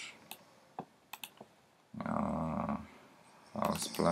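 A computer mouse gives several faint, sharp single clicks spaced apart, followed by louder bursts of muffled rustling noise.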